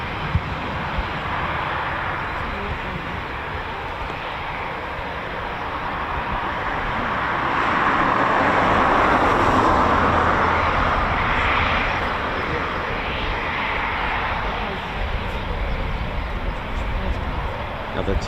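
A Eurofighter Typhoon FGR4 jet takes off at RAF Coningsby, a broad continuous roar that swells to a peak midway and then eases slightly, loud and steady throughout.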